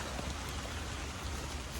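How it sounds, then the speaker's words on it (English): Rain falls steadily outdoors in a garden while someone works on container plants, a dense, even patter of drops throughout with no voices. "it's raining"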